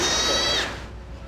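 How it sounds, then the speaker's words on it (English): A newborn baby goat held at the York Expo Center gives a single thin, wavering bleat up close, lasting about half a second before trailing off into quiet room noise. "The baby goats love to be held. They make cute little noises."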